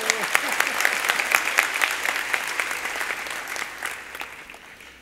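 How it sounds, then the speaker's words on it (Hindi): An audience claps for their music teachers at a golden-melodies concert: steady, dense crowd applause that gradually fades, with faint voices underneath. "आप सबको कहूँगा कि एक ज़ोरदार ताली हो जाएगी हमारे गुरु की।"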